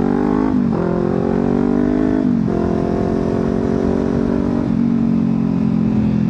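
Kawasaki Ninja 400 motorcycle engine running steadily nearby, its tone rising and dipping through several rev changes, a loud continuous drone with no talking.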